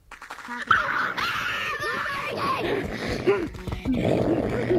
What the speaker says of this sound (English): Is one of them growling? Who put their dog on the headset?